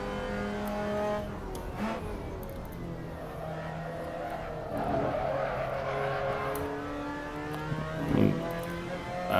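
A Mazda MX5 Cup race car engine in a racing simulator on the Daytona road course drones steadily, its pitch rising and falling through shifts, with a brief tyre squeal or bump near the end.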